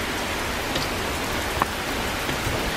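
Steady rain falls outdoors, an even hiss of drops on surfaces with a few sharper close drips, no voices.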